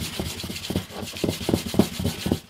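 Bass guitar frets are rubbed with 1200 grit sandpaper in short rhythmic back-and-forth strokes, a close, soft scratchy rasping repeated several times.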